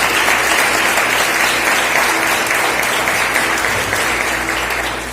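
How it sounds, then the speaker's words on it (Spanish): Loud, sustained applause from a church congregation during a worship service, a thick continuous wall of clapping that stays strong throughout before easing slightly at the end. "aplauso al Señor"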